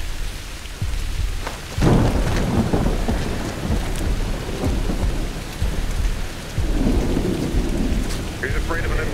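Heavy rain pours steadily in a Splinter Cell: Blacklist stealth video game scene, with loud rolling thunder breaking in and rumbling, close and full, with no voices over it.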